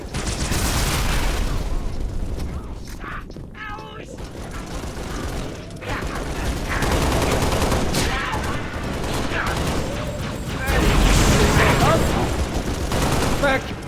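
Gunfire in the Halo Reach video game: a steady, busy fusillade of automatic shots mixed with mechanical clanks and ratcheting, under intermittent voices during combat.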